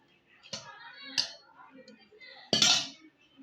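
Rice is mixed by hand with fish and a little curry in a metal dish, making a few close, sharp clinks among soft scraping and squishing.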